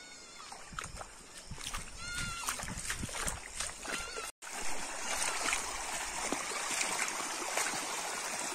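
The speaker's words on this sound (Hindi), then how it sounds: "तो पानी की आवाज देख सकते हो," A stream flowing through a village in the Aravalli hills of Rajasthan, giving a steady broadband rush of running water with a brief dropout midway, while cattle and other farm sounds and faint voices sit in the background.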